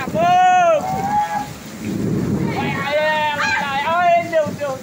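Heavy rain during a strong storm in Ceará, Brazil, a steady low rushing wash of downpour running under an excited man's near, continuous talk throughout.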